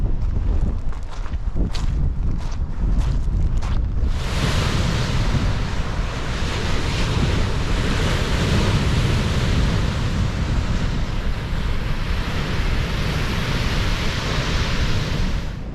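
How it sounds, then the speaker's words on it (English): Steady, loud coastal wind at high tide roars across the microphone with a broad rushing noise, briefly punctuated by gusty buffeting at first, no voices. "It's a bit windy here because the tide's at its highest"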